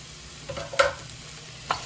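Garlic goes into a hot pan after cooked-down vegetables for a whole yellow pea soup, giving a soft sizzle with a few stirring scrapes and taps, close and brief.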